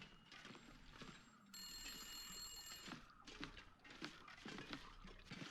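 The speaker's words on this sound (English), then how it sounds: "I know I just heard a phone ring." A telephone rings inside a video game, a steady electronic ring tone sitting in the middle of a busy soundscape with other game noise around it.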